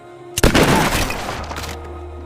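Gunfire in a war film scene of sniper shooting practice, a sudden loud shot burst with rumbling echo that fades over about a second, followed by a low hum.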